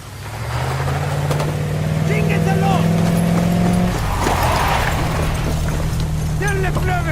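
A truck drives off in Ghost Recon Wildlands (2017), its engine humming low and steady as it pulls away, loud and near, with mechanical clanks and game sounds mixed in and speech over it.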